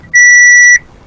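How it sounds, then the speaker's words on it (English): A single loud electronic beep sounds alone for just over half a second, a steady pure tone with harmonics, with quiet room noise before and after. "What is that beep, please?"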